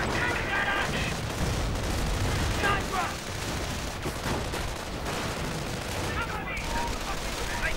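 Battle noise from a WWII strategy video game: dense, continuous gunfire and mortar blasts rumble and crackle throughout, while a commentator talks over the action.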